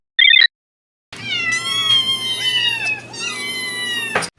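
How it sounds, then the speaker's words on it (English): A recorded cat meows from a push-button control beside plaster statues of a woman and her cats, a short electronic beep, then long drawn-out, wavering meows, loud and close, with no talk. "a push-button control to start a cat recording"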